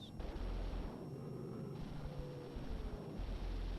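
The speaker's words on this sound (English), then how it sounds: "some of those enemy fighters filter through and meet the blast of bomber guns." Gunfire from B-29 bomber guns shooting at enemy fighters in wartime combat, a dense, continuous rumbling rattle of bursts heard through a noisy, low-fidelity recording.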